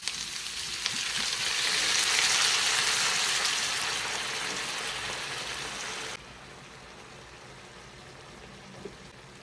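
Pork belly white adobo with garlic, bay leaves, whole peppercorns, vinegar and water cooking in a pot, a strong hissing sizzle that swells, then drops abruptly to a quieter, steady bubbling hiss.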